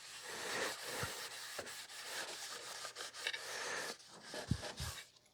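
Sanding a wooden handle with 220-grit sandpaper: a steady, soft, close rubbing rasp that continues throughout with slight rhythmic strokes and a few low knocks, no talking.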